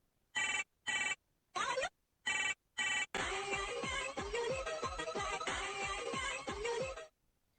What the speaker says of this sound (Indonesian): mendapatkan telepon dari bapaknya